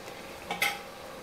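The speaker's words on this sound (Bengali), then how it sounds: "এবার আমি সমস্তটা একটু মিশিয়ে দেব।" A spoon stirs lentil and bottle gourd curry with coriander and ghee in a pan, giving a brief scraping swish in the middle of an otherwise quiet moment, close and soft.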